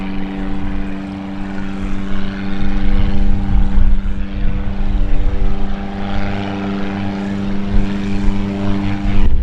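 A propeller plane arrives at EAA AirVenture Oshkosh, its engine droning loud and steady with a strong buzzing tone that swells slightly as it passes close, continuous throughout with no talking.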